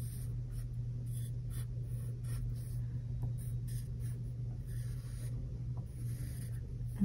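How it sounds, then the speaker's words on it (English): A pen scratches across paper while drawing fish, soft intermittent strokes in short bursts, close and quiet over a low steady hum with no voices. "You can draw the fish in whatever style you'd like"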